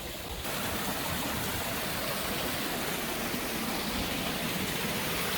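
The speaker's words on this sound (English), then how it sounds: "So here's the top waterfall before." The top waterfall of a permaculture recreation pond pours in a steady, unbroken rush of splashing water, even in loudness throughout and heard without any talking.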